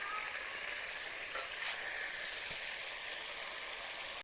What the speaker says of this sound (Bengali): এগুলোকে লাল লাল করে ভেজে নেব।